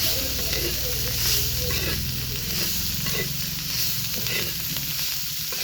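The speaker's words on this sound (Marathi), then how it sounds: "याला परत आपण परतून घेऊया." A vegetable bhaji is stir-fried in a pan in a tribal-style home kitchen, with a steady close sizzle and intermittent scraping stirs.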